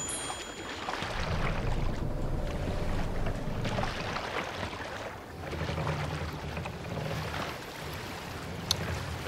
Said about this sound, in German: Wir können ja mal zur Abwechslung mit dem Schiff fahren.